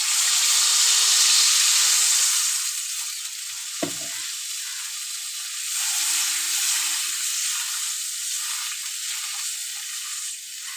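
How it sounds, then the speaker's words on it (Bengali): Water poured into a hot pan of fried spices for a Bengali rohu fish curry sets off a loud, hissing sizzle that eases and swells again, with a sharp clunk of utensil against pan partway through and no voices. "এখন আমি জল দিয়ে দেবো।"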